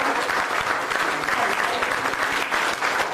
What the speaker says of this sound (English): Keep your applause going.